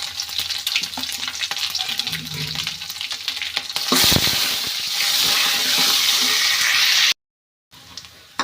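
Tempering spices drop into hot oil and burst into a loud, crackling sizzle with stirring, close and continuous, then the sound cuts out briefly before resuming; no talk.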